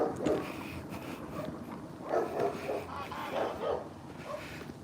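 A dog barks repeatedly at a distance in a village setting, several muffled woofs in a loose cluster over steady background noise, faint and far off.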